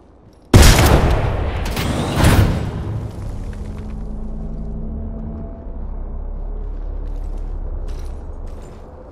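A frag grenade explodes in the video game Apex Legends, a sudden loud blast followed by a second booming burst, then a long low rumbling tail fading under faint game ambience.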